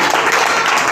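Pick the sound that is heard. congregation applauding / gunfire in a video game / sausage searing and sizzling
congregation applauding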